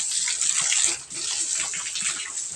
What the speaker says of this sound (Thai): หลังจากกวาดแล้วเขาก็มาฉีดน้ำใส่ตัวให้เพิ่นค่ะ ฉีดน้ำใส่ตัวล้างตัว